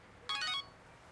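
A phone gives a short text message alert in a crime drama scene, one bright electronic chime of about a third of a second over a quiet room.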